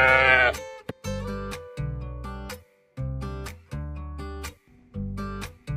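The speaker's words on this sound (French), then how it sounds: "on peut tomber sur des troupeaux de moutons" A flock of sheep in rural Georgia bleats repeatedly, with several clear, loud calls from nearby animals spaced a second or so apart and short quiet gaps between them.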